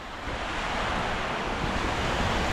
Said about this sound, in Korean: 그냥 파도 소리 그냥 귀에 꽂아버리기